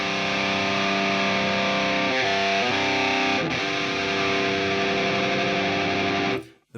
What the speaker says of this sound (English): The middle control sounds like it's controlling a different type of mids. Sounds kind of unpleasant.